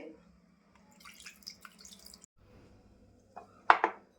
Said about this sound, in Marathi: आता थोडंसं मी पाणी घालते